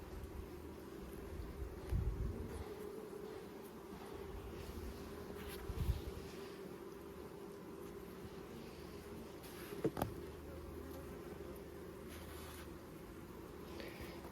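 Angry bees buzzing around an open hive during a mid-August hive inspection, a faint, steady drone with a few closer buzzing passes and light handling knocks.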